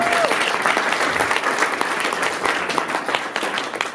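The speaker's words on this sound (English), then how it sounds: "A round of applause for them." At a gala award ceremony, an audience applauds the honorees with sustained, dense clapping that holds steady throughout, with a faint murmur of voices mixed in.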